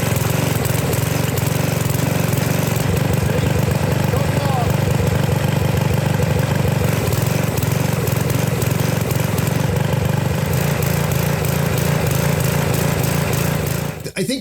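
A Sears Craftsman pressure washer with a Briggs & Stratton 6.5 hp OHV engine runs roughly and unevenly with some choke applied, a loud continuous engine drone that holds steady throughout before cutting off abruptly at the very end.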